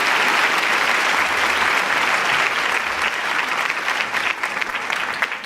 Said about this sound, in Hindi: तो आप सभी तालियां बजाकर उनका स्वागत कीजिए।